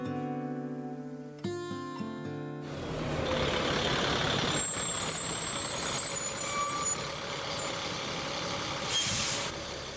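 School bus engine idling and rumbling close by, with a loud hiss of released air brakes and high squeals above a steady, loud drone, following a few seconds of music.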